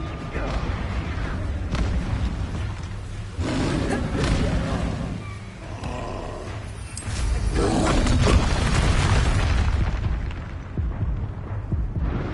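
Expulso spell explosions in the video game Hogwarts Legacy, heavy booming blasts and bursts recurring amid dense battle noise, with voices calling out over the action.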